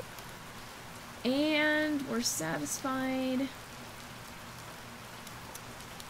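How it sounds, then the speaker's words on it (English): Steady rain falls in the video game Cattails, a constant soft hiss running through the whole scene beneath a short line of speech. "Yeah, it's raining."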